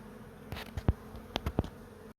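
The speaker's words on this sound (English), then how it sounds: "A whole bunch of bees congregating there just because I put a piece of comb in there" Honey bees buzzing around an open beehive, a steady low drone with several brief louder buzzes as individual bees pass close by.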